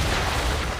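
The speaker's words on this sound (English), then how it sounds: "Bring her round broadside, and when all guns are on target, call fire." A warship's cannon broadside in the Assassin's Creed III naval combat game roars as one dense, loud, sustained rumble of booming fire, brief and alone.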